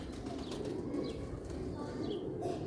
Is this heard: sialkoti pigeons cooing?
yes